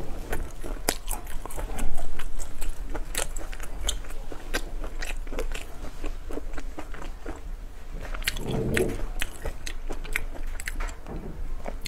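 Close, crunchy biting and wet chewing of food, likely shrimp and sausages, in steady rapid bursts with a brief heavier crunch near the middle, no talking.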